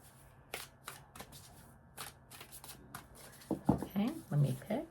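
A deck of Spiritual Awakening 52 Universal Law oracle cards shuffled by hand, a series of quick riffling flutters and snaps, close and fairly quiet, with soft talking over the last part.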